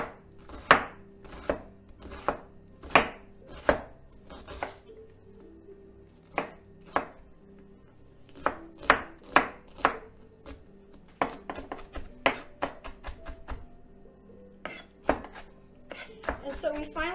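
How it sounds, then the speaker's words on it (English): A knife finely chops half an onion on a board for a beef and pork ragu. Crisp, close chops come in quick bursts with short pauses between them, loud and distinct against a quiet background. "we're going to finely chop the onion"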